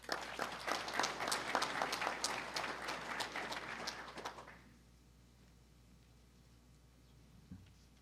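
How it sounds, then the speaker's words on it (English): An audience at the MiEnergy cooperative's annual meeting claps in a full, even burst for about four seconds, then it trails off into quiet room tone with a small bump near the end. "Let's give them all a round of applause."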